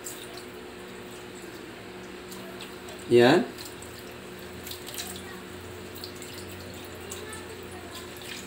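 A little water is poured from a tap into a cooking pot holding wrapped fish, a brief splashing gush lasting under a second against a quiet kitchen background.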